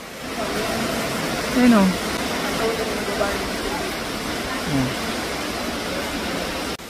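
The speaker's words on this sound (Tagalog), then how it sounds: "Kaya po ito tinawag na hulugan falls." Hulugan Falls roars with a steady, loud rush of water that fills the whole stretch, and a voice speaks briefly over it.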